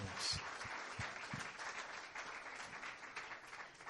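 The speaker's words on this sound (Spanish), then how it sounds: "Denle un aplauso al Señor" During a live sermon, a congregation gives a round of applause to the Lord, fairly quiet sustained clapping with a few louder early claps and faint voices.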